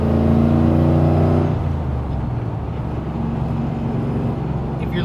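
Supercharged 1970 Chevrolet C10 pro touring truck, roughly 1,000 horsepower, with its engine and blower droning loud and close. A strong low harmonic tone drops away after a second and a half into a rougher, steady whir.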